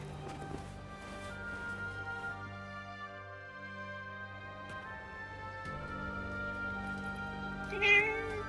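A cat meows in the video game Forspoken, a few short meows over a sustained musical score, with one brighter, louder meow near the end and no speech.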